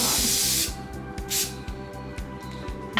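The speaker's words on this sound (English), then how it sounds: "I have the Tresemme Extra Hold Hairspray." Tresemme Extra Hold hairspray sprays from an aerosol can in a close, loud hiss that breaks into several short bursts, with no talking.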